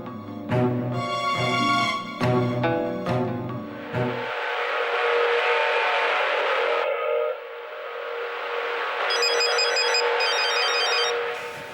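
A mobile phone ringtone plays loud and close: a bright melodic tune of repeated notes, then a sustained buzzing tone, then a high chiming pattern, all without talk.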